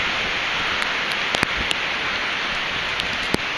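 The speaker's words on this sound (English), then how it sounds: "It's dumping rain right now." Heavy hurricane rain during Hurricane Sandy on the New Jersey shore, a steady dense roar of downpour filling the whole clip, with a few sharp drips and gusty knocks standing out near the microphone.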